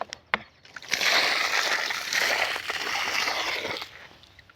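Water from a well and a storage drum splashes and sloshes as it is poured onto garden plants, a moderately close gush lasting a few seconds between a couple of sharp knocks.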